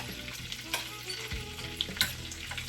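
Whole spices sizzling in hot oil and butter for methi chole pulao, a lively close crackle with bright pops and a few stirring scrapes, no voices.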